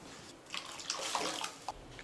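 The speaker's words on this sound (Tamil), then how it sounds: "கொஞ்சம் தண்ணி விட்டு கழுவி ஊற்றிங்கம்மா." Water splashes and pours briefly into a pot, a few close gurgling splashes in quick succession.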